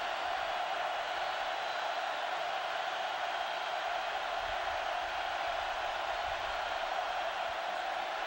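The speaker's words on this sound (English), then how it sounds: "Crowd comes alive." Football stadium crowd during a 2002 Miami Hurricanes vs Florida Gators game, a steady, dense roar of many voices rising on a third down, continuous and fairly loud throughout.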